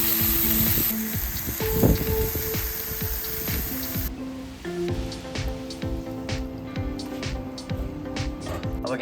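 Four or five pork pieces for carnitas sizzle and spit in a pan, a loud hissing fry at first that drops to a quieter crackle with scattered pops, close up and without talk.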